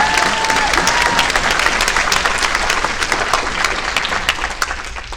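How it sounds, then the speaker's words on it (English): Audience applause fills a convention horror panel, with dense, steady clapping from a large crowd lasting throughout and staying loud from start to finish. "You can clap."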